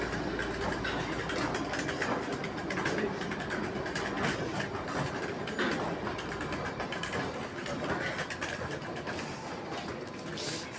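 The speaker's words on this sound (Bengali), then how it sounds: "দেখো এই যে টয় ট্রেনগুলো ঢুকছে" The Kalka-Shimla toy train (Himalayan Queen) pulls into a hillside station, giving a continuous close rumble and clatter with a dense, unbroken mechanical roar throughout.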